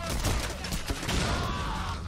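Dense gunfire in a bank heist shootout in the video game Payday: The Heist, continuous loud rattling volleys filling the whole stretch with no break.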